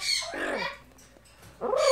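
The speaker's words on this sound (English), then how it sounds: "What a good bird." A pet bird lets out a short squawking call, then falls quiet before a second harsher call, close and clear indoors.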